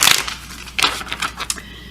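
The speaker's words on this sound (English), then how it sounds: "I'm just doing a quick shuffle," A deck of tarot cards being given a quick shuffle, heard as a few crisp riffling bursts of card edges snapping together, close and fairly loud, with no talking.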